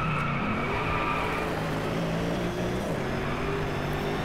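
A Pagani hypercar's engine in Driveclub drones steadily and fairly loud with a continuous, even roar and no voices over it.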